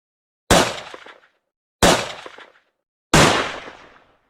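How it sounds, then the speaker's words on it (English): Three sharp, evenly spaced shots from a Glock 17 pistol fitted with an Omega 36M suppressor. Each one has a quick decaying tail and is followed by clean silence. "Maybe we'll get a few rounds off with this Glock 17."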